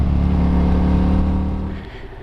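A Ducati Scrambler motorcycle engine revs hard at full throttle, a loud, close, sustained rumbling roar that holds steady before easing off near the end.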